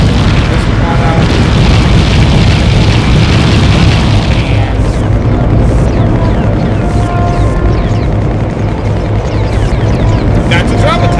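Continuous loud booms and bursts of gunfire in the Nintendo 64 game Body Harvest as a vehicle shoots and destroys alien pods, a dense dense roar of explosions with talk over it.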